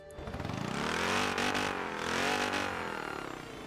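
A tiny 1962 Peel P50 microcar engine in Forza Horizon 4 buzzes and revs steadily like a lawn mower, a thin, rising and falling drone held close and loud throughout with no talk.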